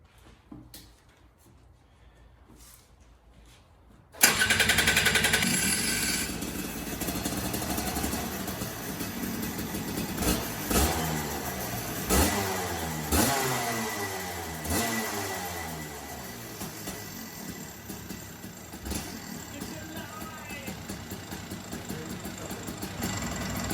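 A small go-kart engine catches after quiet handling noises and roars into a steady, rattling idle, with a few revs rising and falling up close.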